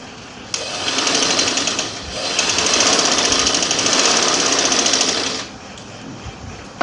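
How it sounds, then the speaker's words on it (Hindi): A sewing machine stitches a shirt collar band in a close, loud, steady whirring run of several seconds, pausing briefly midway before stopping, with no talk over it. "हमारी एक सिलाई रह गई है, हम वो लगाएंगे अब।"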